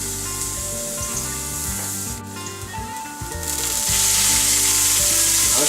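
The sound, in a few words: garlic and mushrooms stir-frying in oil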